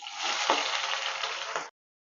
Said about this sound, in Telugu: వేడి అయ్యాక మూడు ఆనియన్స్ని కట్ చేసి పెట్టుకున్నాను ఆనియన్స్ వేసుకోవాలి